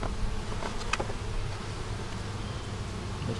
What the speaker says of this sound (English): the bees in the top right there.